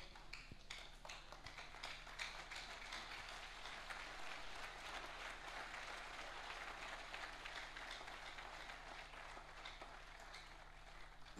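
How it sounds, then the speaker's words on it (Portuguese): A church congregation claps at a worship service for a covenant and anointing-oil gathering. The applause is faint and distant, a dense, continuous patter of many hands that holds steady throughout. "Aplauda fortemente para o Senhor."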